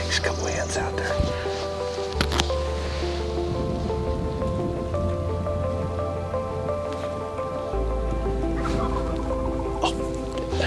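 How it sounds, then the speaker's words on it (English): Wild turkey gobblers calling outdoors in spring, with hens nearby, as short bursts of rattling gobbles scattered among rustling and movement, with people talking quietly close by. "I just heard a gobbler."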